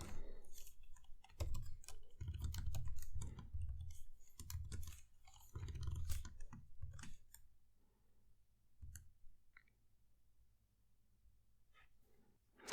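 Rapid clicking keystrokes on a computer keyboard while writing quicksort code in Swift, close and fairly quiet, in dense bursts that thin out to sparse taps toward the end, with no speech.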